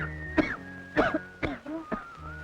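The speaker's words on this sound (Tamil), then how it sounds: "இப்படி இருமுறீங்க?" Several short, harsh coughs and throat-clearing bursts from a man, four or five spaced hacks in quick succession, close and fairly loud with no speech.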